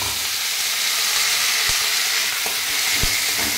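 Panch phoron and black mustard seeds sizzling in hot oil, a loud, dense, continuous frying hiss close by, with a few soft pops and stirring knocks and no talking.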